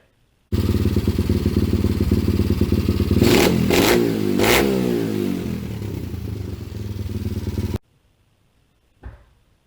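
A 2000 XR50SMR small dirt bike engine idles steadily, then revs sharply in a few quick bursts before settling and cutting off; a brief clunk follows.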